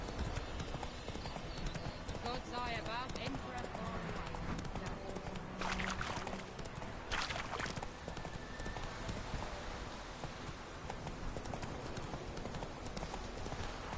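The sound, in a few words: horse hooves clip-clop from video game Witcher 3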